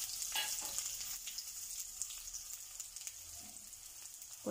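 Onions sizzle and fry in hot oil in a pan while Andhra-style spicy gobi manchuria is being made, a steady crackling hiss that runs throughout with brief louder spits and no talking.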